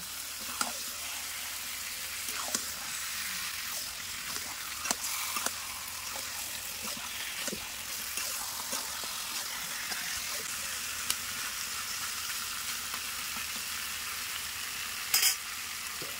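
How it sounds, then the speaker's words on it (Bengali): Chicken curry ingredients get mixed in a hot pan, a quiet, steady frying sizzle running throughout with scattered scrapes and clicks of stirring, and no voices. "এবার সব কিছু ভালো করে মাখিয়ে নিচ্ছি।"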